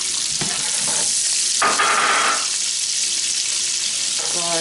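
Onions sizzle and fry in butter in a home kitchen pan for a curry cauliflower dish, a steady loud crackling hiss with a brief burst of stirring partway through.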